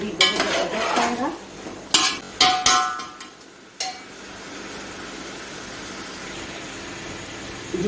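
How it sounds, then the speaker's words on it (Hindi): Beef and spices being stirred and fried in a pot for an Eid beef yakhni pulao, with sharp metallic clanks of a spoon against the pot early on, then a faint steady sizzle. "मैं अच्छी तरह भूनूंगी ताकि सारे मसाले इसके साथ मिक्स हो जाए"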